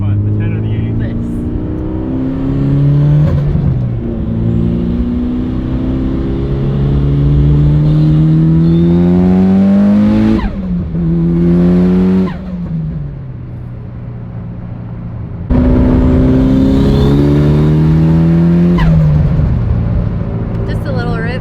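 A fast car's engine revs and accelerates through rising gear pulls, loud and close, with brief drops between shifts, while people talk over the engine.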